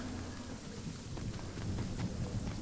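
A thunderstorm in a video game: steady heavy rain with low rumbling thunder rolling beneath it, dense and continuous throughout, with no voices.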